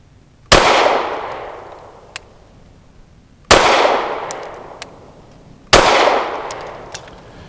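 Three sharp, loud pistol shots ring out a few seconds apart from a Canik METE MC9L with a 3-inch barrel firing Federal Syntec 130 grain PCC ammunition, each followed by a short decaying echo and faint metallic clinks.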